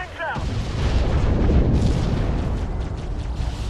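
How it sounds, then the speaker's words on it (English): Flashbang grenades go off in a military video game as a heavy, rumbling blast that swells into a sustained roar of noise. A brief radio-style voice comes just before the boom. "Flashbangs out!"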